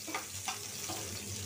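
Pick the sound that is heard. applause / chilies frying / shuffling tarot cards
chilies frying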